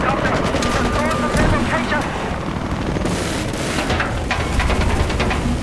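A helicopter in the video game Battlefield 4 drones with a loud constant rotor roar, mixed with gunfire bursts and explosions in a busy battle.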